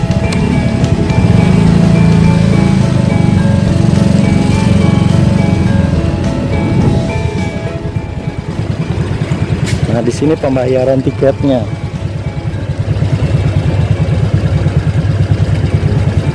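A motorcycle engine runs close and loud at a park entrance gate, a steady rumbling idle and roll throughout, with people talking over it.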